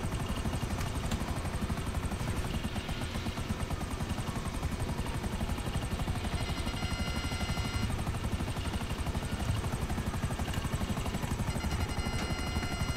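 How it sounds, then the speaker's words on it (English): A helicopter in the video game GTA 5 drones steadily with a continuous rotor chop throughout, moderately loud and unchanging, with no talk over it. "Oh, there's just suddenly a helicopter."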